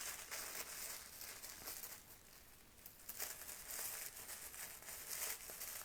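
Tissue paper crinkling and rustling as paper flowers are shaped by hand, a soft, steady, close-up crackle throughout.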